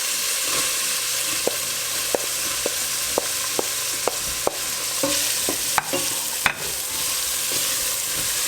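Onion frying in a pan for Filipino chicken adobo, a loud steady sizzle with regular metallic taps and scrapes of a stirring utensil, no one speaking.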